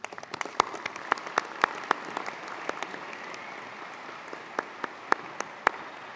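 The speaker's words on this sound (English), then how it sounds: "Please join me in a round of applause for Miss Beverly O'Connor" Audience applause at a university graduation ceremony: a loose, thinning patter of claps in a large hall, fading to scattered individual hand claps that ring out sharply one by one.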